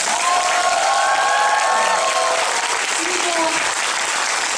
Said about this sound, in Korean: 그분들한테 진짜 숨어 있는 우리 까만 맨들 한번 박수만 주세요